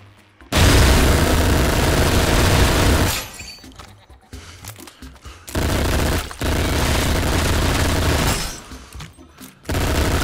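Long bursts of rapid, booming gunfire in the VR game Shooty Fruity, loud and close, cutting off abruptly between volleys with quieter clatter and rustling in the gaps.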